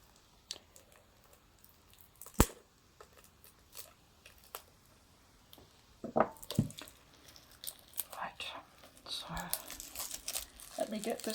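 Plastic shrink wrap crinkles and tears as it is pulled off a PS4 game box of Trails of Cold Steel. Sharp snaps and rustling come up close and grow denser toward the end.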